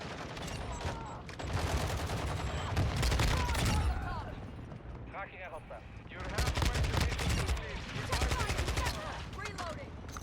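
Bursts of automatic Kastov 545 rifle fire in a console shooter game, rapid loud volleys in two long stretches separated by a brief lull, with game sounds and a player's voice mixed in.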